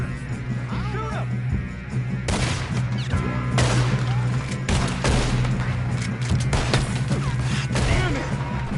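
Gunfire in the Western video game Red Dead Redemption 2, a volley of repeated sharp shots spread irregularly over several seconds, loud over a low game drone, with voices shouting in between.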